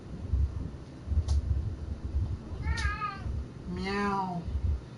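A cat meows twice in the video game SoulCalibur VI, two rising-falling cries over a steady rumbling ambient background, the second longer and fuller.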